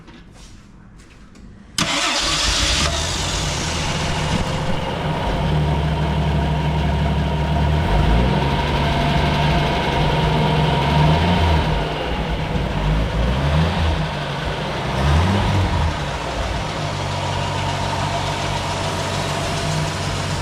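A Jeep CJ7 engine with a suspected alternator fault cranks and fires, then runs at a steady, loud, close idle with slight rises in revs, with no voices.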